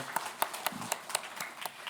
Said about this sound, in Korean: 우리 다시 한번 더 우리 아멘 하고 박수 한번 칩시다